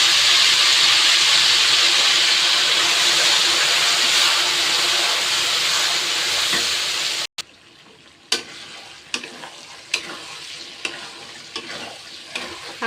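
Hog plums tipped into a pan of browning garlic, a loud steady sizzle of frying that drops off abruptly, followed by quieter bubbling and a few sharp stirring clicks.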